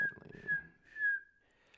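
A person whistles to imitate a cricket, giving a few short, thin, high whistled chirps that swell and fade, quiet and alone with no talking.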